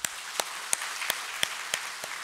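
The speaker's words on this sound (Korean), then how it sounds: "우리 인사할 때 우리 박수로 환영합시다." A church congregation applauds to welcome a new youth pastor, producing a steady, even wash of clapping with a handful of sharper, evenly spaced single claps cutting through close by.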